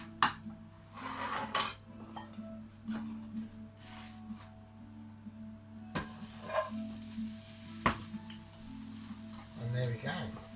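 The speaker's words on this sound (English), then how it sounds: "fry it off" Beef mince and onion frying in a pan for a pie, with a steady soft sizzle under repeated clinks and scrapes of a utensil against the pan, plus occasional kitchen clatter and a person talking nearby.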